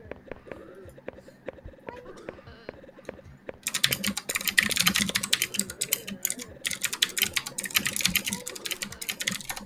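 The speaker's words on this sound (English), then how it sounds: "sorry if my keyboard's loud" Loud mechanical keyboard being typed on, sparse individual clicks at first, then rapid dense bursts of clacking close to the microphone, with quiet talking faintly underneath.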